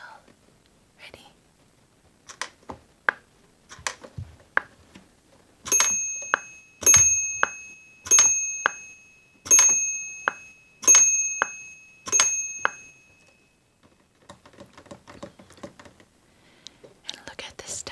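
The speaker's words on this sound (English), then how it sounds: "The bell." Metallic bell on a 1980s Fisher-Price Discovery Cottage toy rings six times at an even pace, each bright ding ringing out and fading, close and clear, between softer handling taps and rustles of the plastic toy.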